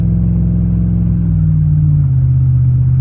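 A truck's 6.2 engine with an aftermarket exhaust rumbles loudly and close while driving, a deep steady drone whose pitch sags slightly as the revs settle.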